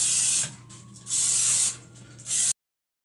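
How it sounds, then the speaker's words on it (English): Three hissing bursts from a spray paint can, each about half a second long and separated by short pauses, then silence. "I will have to use some more spray to spray along the edges."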